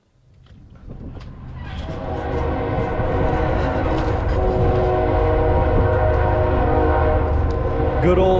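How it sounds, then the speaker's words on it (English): A train rumbles steadily nearby, building from quiet to a sustained loud roar with tonal horn-like harmonics throughout, no talking. "Sound like I'm back in Nashville with that train"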